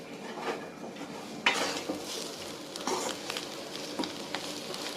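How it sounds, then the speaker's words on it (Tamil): Chicken curry fry being stirred and sautéed in a pan, with a steady sizzle and spatula scrapes and clinks against the metal that come up close at irregular intervals, no voices. "ஒரு 2 நிமிஷம் அப்படியே வணக்கிட்டே இருங்க."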